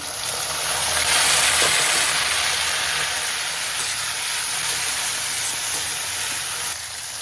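Onion, tomato and green chilies dropped into a hot frying pan, hissing and sizzling loudly and close, swelling briefly as they go in and then holding a steady fry with no speech.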